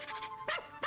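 A puppy gives two short, high yips close by, each a quick bright burst, over a faint steady tonal hum.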